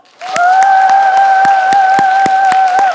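Church congregation clapping hands strongly in a steady, evenly spaced rhythm, about a dozen loud claps over a sustained sung or held vocal tone.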